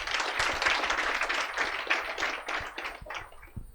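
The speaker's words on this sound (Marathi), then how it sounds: "एकदा टाळ्या व्हायला पाहिजे." An audience gives a round of applause during a student motivational talk: dense, steady clapping from many hands, fairly loud and continuous, tapering slightly at the end.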